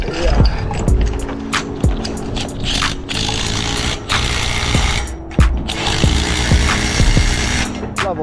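On a building site, a scaffold sleeve coupler is tightened with a string of sharp, irregular metallic clicks and knocks over a constant noisy background.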